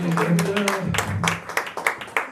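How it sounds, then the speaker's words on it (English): Brief clapping from a theatre audience at a hypnosis show, a few sharp claps breaking through as someone talks loudly over them. "Give a massive round of applause, ladies and gentlemen."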